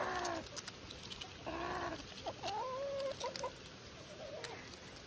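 Two chickens cluck in bursts on a farm as they push in to eat near a dog: short broken calls and a drawn-out warbling squawk in the middle, fairly close, with steady outdoor noise beneath and no talk.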